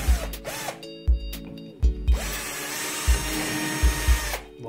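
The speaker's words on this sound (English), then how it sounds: "Just going to drill a couple of pilot holes." A power drill bores pilot holes into a kayak hull for a base plate mount, giving several short, close whirring bursts separated by brief pauses.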